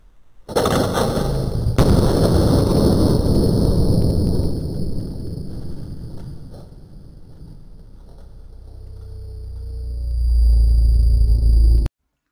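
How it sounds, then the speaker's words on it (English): An arrow packed with black powder sets off a loud outdoor blast that tears a cabbage apart, followed by a long rumbling, crackling roar that fades and then swells again before cutting off. "So here comes the arrow, hitting right on the explosion."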